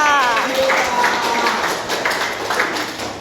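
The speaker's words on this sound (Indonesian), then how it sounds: "Tepuk tangan untuk Pramudita." Classroom applause for a student named Pramudita, a brief burst of scattered hand claps with voices sounding alongside and fading toward the end.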